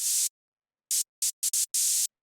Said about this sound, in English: It's just literally a little bit of white noise and a bandpass filter